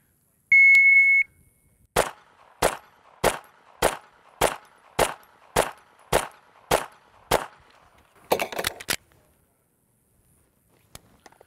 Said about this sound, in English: Start the buzzer here.